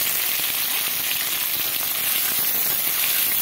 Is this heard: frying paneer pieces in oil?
yes